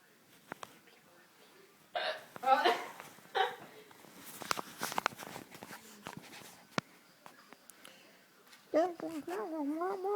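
A child has hiccups; several sharp, breathy hiccups pop out between bursts of talking and soft rustling, close and fairly clear.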